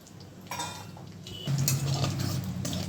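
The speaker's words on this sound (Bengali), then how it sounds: "এরপরে এগুলো একটু নাড়িয়ে চাড়িয়ে নেব।" Spices sizzling in oil in a pan (cumin, dried chilli, cardamom, cinnamon and cloves) are stirred with a utensil, giving steady close scraping and clinking against the metal that grows louder halfway through.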